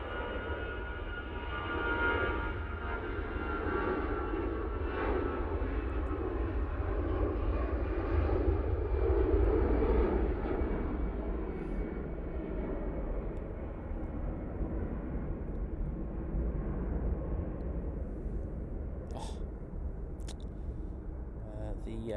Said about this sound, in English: Lufthansa now off to Frankfurt